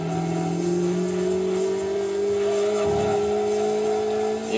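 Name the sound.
Citroën Saxo car engine and tires in video game Gran Turismo 2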